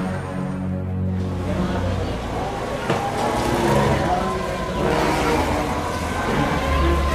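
A motorcycle engine hums steadily at close range as it pulls up, running continuously beneath people talking over it.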